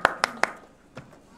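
Hands clap three times in quick succession, then once more after a short pause; the claps are soft and close, with no talk over them.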